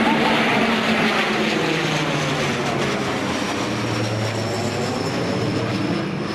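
Polish propeller aircraft flying past at a military reenactment event, a loud continuous engine roar with shifting drone filling the whole stretch, no talk over it.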